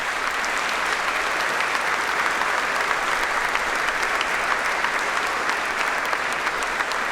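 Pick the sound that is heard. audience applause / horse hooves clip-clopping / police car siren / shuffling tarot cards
audience applause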